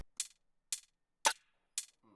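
Clangy snare drum sample from a sample pack, struck four times in a steady beat, each hit a sharp bright crack with a short metallic ring, close and dry, with a faint tonal sound creeping in at the end.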